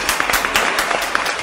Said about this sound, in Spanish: ¡Un aplauso hasta la Deportiva Xochimilco!